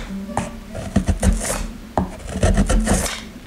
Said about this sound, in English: Delgado chisels down the spruce bracing on the back of what will be a flamenco guitar.